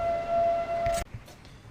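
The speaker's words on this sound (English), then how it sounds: "that's a tornado siren" A steady, wailing tornado siren tone holds for about a second, then cuts off abruptly, leaving faint background noise and a few brief rustles.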